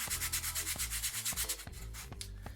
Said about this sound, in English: I'm just going to give them a light sanding